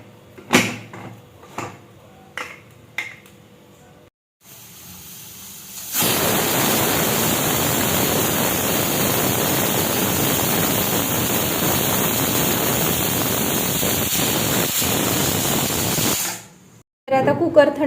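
A kitchen pressure cooker with mutton inside lets out a long, loud, steady hiss of escaping steam lasting about ten seconds, preceded by a few sharp clanks of lid and vessel, then cutting off abruptly.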